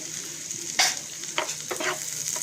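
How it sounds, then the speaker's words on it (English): Garlic and green chilies sauteing in oil and butter in a pan, a steady soft sizzle with a few louder stirring scrapes, close and alone with no talk. "So I'm just sauteing the garlic and the green chilies here in some oil and butter."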